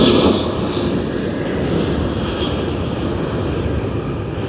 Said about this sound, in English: to watch the Emirates A380 with the NBA livery is now